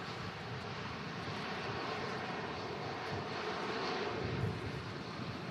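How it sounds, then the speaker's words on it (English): A Saudi Boeing 787 Dreamliner lands and brakes hard at a windy Manchester Airport: a distant, fairly faint, steady broadband roar of engines and airflow that holds evenly and rises slightly near the end. "Wow, stopping nice and quick, the Saudi Dreamliner."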